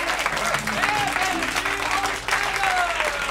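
Audience applause at a live blues concert at Pit Inn fills the whole stretch as a dense, steady clatter of clapping, with a few faint sustained tones sounding underneath.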